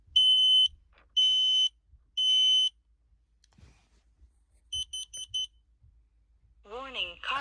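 Household smoke alarms under test give piercing high electronic beeps, three long bursts and then a quicker group of four short chirps, with a voice speaking at the end.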